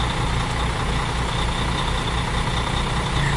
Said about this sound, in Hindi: चलो भाई लोग इंजन स्टार्ट करो